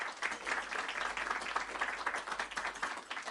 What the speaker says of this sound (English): Big round of applause for him, please, again.